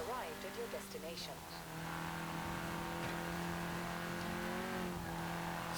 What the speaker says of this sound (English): it's got a really nice raw sounding engine to it.